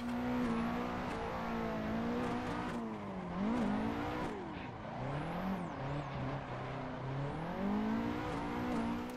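Nissan 180SX S13 four-cylinder engine in the Assetto Corsa racing game, drift-modded, revving hard and continuously with rising and falling pitch as it shifts, with brief tire squeal, loud and steady throughout.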